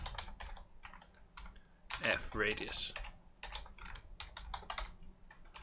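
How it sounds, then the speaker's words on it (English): Rapid, uneven clatter of keys on a computer keyboard, close by, in bursts while coding a planet-drawing program, with someone speaking over part of it. "Yeah, I'm terrible at typing"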